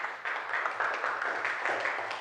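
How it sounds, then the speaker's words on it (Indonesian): A classroom of students claps for a student group, a steady patter of many hands held at a moderate level for a couple of seconds, with no talking over it. "Tepuk tangan dulu ya"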